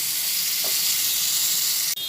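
Potato pieces frying in hot oil for a young jackfruit korma give off a steady, dense sizzle that runs close and even the whole time, with a brief dip near the end.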